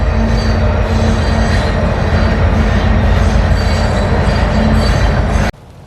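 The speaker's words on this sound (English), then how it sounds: "Got a train on the tracks." A train runs along the tracks near an urban lean-to campsite, giving a loud, continuous rumble with a sustained wheel squeal that carries steadily for several seconds before cutting off abruptly. No one speaks.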